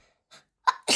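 A single sneeze indoors in a quiet house, with a short inhale, a sharp burst and a loud breathy release at the end, close to the microphone.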